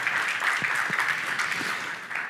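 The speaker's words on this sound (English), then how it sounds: "Applause." Audience applause greeting a speaker, Jens Holmberg, as he walks onto a conference stage: a steady, dense wash of many hands clapping, moderately loud and even throughout with no voices over it.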